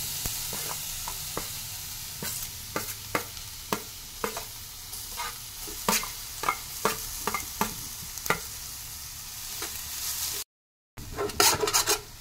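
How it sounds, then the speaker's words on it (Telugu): Grated carrot frying in ghee for gajar ka halwa, a steady close sizzle broken by repeated scraping strokes of a spoon stirring the pan, with a brief silent gap near the end. "ఇప్పుడు మనము తరిగి పెట్టుకున్న క్యారెట్ తురుముని ఈ నెయ్యిలో వేసేయాలి."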